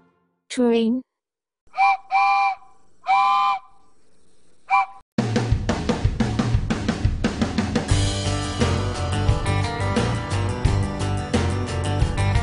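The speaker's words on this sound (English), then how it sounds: "Train." A train whistle sounds in four separate blasts with pauses between them, and then a loud, busy music track starts and keeps going.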